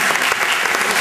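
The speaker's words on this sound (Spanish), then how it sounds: "Un aplauso para él" Dense, steady audience applause at a 2009 Asturian film festival opening gala, many hands clapping together at constant loudness for the whole second with no voices standing out.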